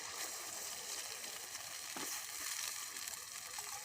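Water being poured into chicken curry (chicken bhaji) cooking in a pot produces a faint, steady hissing sizzle with a soft splash midway, quiet and continuous without talking.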